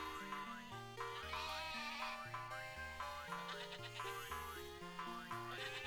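Sheep bleat in The Talos Principle video game, several short, wavering cries rising over a steady, busy musical backing that never stops, with no one talking.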